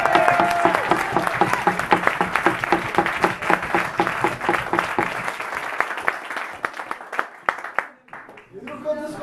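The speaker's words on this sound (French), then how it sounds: "On peut applaudir Mara s'il vous plaît." An audience at a slam poetry competition final applauds with dense, lively clapping that thins out into scattered claps, with a voice heard near the end as it fades.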